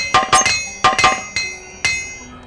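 A repair hammer in Morrowind clinks in quick metallic strikes, two pairs of close double taps followed by two single ringing clinks, sharp and bright with short decays and no talk.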